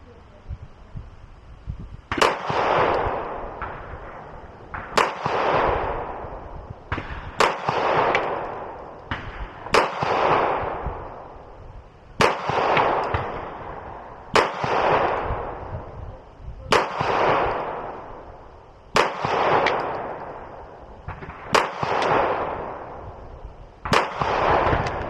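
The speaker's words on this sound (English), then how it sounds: "we're going to shoot at that left circle real quick" A Beretta APX A1 Compact 9mm pistol fired at a target: about eleven sharp, loud shots spaced a second or two apart, each followed by a long ringing decay.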